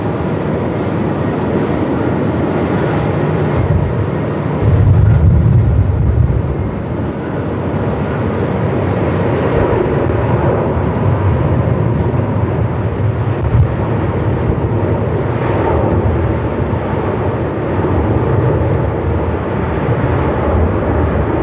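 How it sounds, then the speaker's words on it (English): An Air New Zealand Boeing 787 makes a long takeoff roll at Melbourne Airport in gusty 45-plus-knot winds, a loud, steady jet roar blended with heavy buffeting wind noise throughout. "One of the longest takeoff rolls I've seen today."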